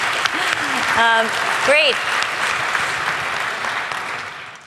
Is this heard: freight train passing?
no